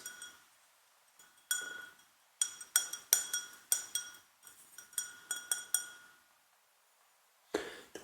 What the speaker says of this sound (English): If I swirl it a little bit, the whiskey that's like on the side of the glass.